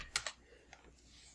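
Quick keystrokes on a computer keyboard, a tight double tap of clicks followed by a few softer scattered presses, close and fairly quiet with no talking.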